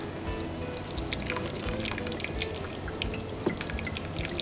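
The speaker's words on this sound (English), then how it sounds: "Rinse all this off." Tap water splashes and drips over cooked ground beef in a kitchen strainer, making a continuous close-up patter with small clinks. No talking.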